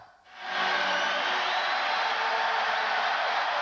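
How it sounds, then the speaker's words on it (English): A capacity arena crowd at a Knicks vs Bulls Eastern Finals Game 5 playoff game swells quickly into a loud, steady roar and holds it without a break. "This capacity crowd reacting to the Knicks moving within 2."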